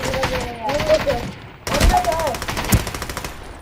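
Bursts of automatic gunfire in the battle royale game Ring of Elysium, rapid cracking shots in two stretches with a brief lull, loud and dense, with a faint voice murmuring under the action.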